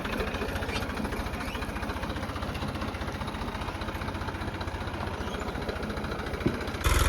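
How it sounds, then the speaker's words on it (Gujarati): A farm tractor's engine runs steadily nearby with a low, even chugging throb that holds at a constant level, with no talking, and ends with a short knock at the close. "હવે જો એ ટ્રેક્ટર લઈને જાય છે"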